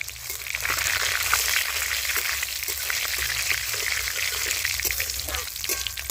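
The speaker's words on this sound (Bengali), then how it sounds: "এবার এগুলোকে হালকা একটু ভেজে নেবো" Light, even sizzle of spices frying in hot oil, with small crackles and occasional stirring scrapes nearby.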